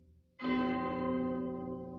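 A single bell is struck once and rings out with a bright, sustained metallic tone that slowly fades.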